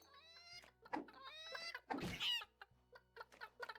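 Game-style chicken clucks from Secrets of Grindea, a run of bright, harmonic squawks and clucks repeating over nearly four seconds, fairly close and loud, with a steady low background hum from the game and no talking.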